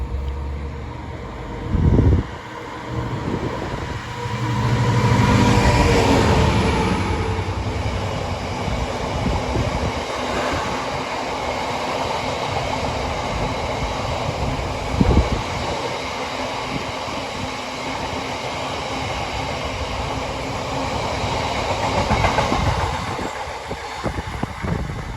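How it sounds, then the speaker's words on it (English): A Freightliner freight train rolls through Pangbourne station on the Great Western Main Line, a loud sustained roar of engine and wagons passing close by with rumbling peaks and a brief horn-like swell. "We've got that freight train going through now."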